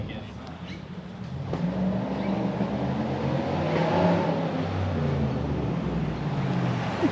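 Chevrolet Silverado 1500 LTZ with a straight-pipe exhaust, centre muffler removed, its engine rumbling low and swelling in a steady rev, with people talking over it.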